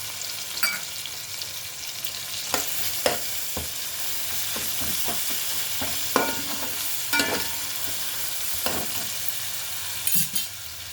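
Ginger garlic paste sizzles with softened tomatoes in a hot pan, a steady frying hiss broken by repeated scraping stirs from a spoon, close by and with no voices.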